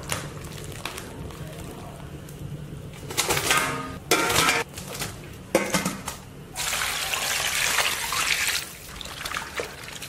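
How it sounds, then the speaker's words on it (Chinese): Tap water runs and trickles as blanched chicken legs are rinsed in a home kitchen, with bursts of splashing and handling noises between quieter moments. "把过好水的鸡腿捞出来再洗一下"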